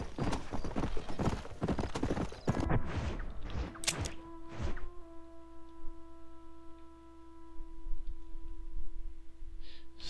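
Horse hooves clip-clopping in the Red Dead Redemption video game, a quick loud run of hoof strikes with a neigh that stops abruptly, leaving a sustained tonal hum and faint clicks.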